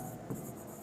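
A short, faint scratch of writing on a board during a math lesson on linear equations, a single soft rubbing stroke under a quiet background, with no speech.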